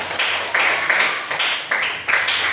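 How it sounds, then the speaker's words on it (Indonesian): Primary school children in a classroom clap together to cheer on a classmate entering a marathon race, a steady run of loud group claps in a repeating rhythm with no talking over them. "Kalian dukung Kian ikut lomba? Tepuk tangan, kasih semangat."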